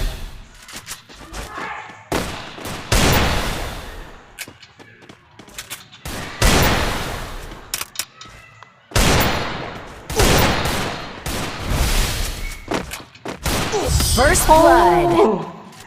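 Gunfire from the Free Fire video game rings out in repeated loud bursts and single shots, separated by short gaps, with thuds and impacts in between across roughly sixteen seconds.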